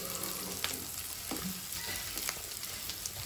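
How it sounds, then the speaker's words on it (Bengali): Liver fries on low heat in a pan with garam masala and a little salt, sizzling steadily with occasional scraping stir strokes at close range. "দিয়ে এখন এটাকে ভাজা ভাজা করতেছে।"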